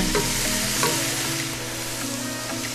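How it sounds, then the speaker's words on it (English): Vegetables sauté in a pot, with a steady close sizzle and a spoon stirring and scraping through it, no talk. "But here are all those vegetables ready to go in here. We're gonna saute them until they're soft."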